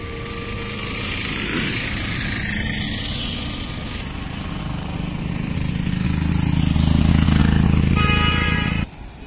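A heavy Eicher 241 tractor engine runs steadily and loudly nearby, growing stronger toward the end before cutting off abruptly.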